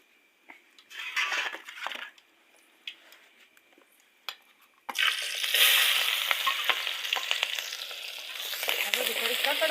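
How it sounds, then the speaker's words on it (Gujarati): Onion, tomato, garlic and chilli masala frying in a pan, light stirring and clinks at first, then a loud continuous close sizzle that fills the rest. "આ બધું થોડી કકડવા દઈએ મસાલો"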